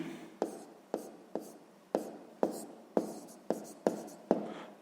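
Pen strokes on paper in a steady run of about ten short scratching marks, close and quiet, with no talking over them.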